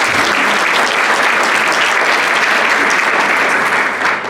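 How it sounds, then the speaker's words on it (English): A conference audience at LegCon 2016 breaks into steady, dense applause from many hands, loud and sustained throughout with no talking over it. "you can applaud for that."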